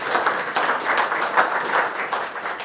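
An audience at a Tatura local-history talk gives steady, close, dense applause to welcome the speaker, Nick Ross. The clapping fills the whole stretch with no talk over it.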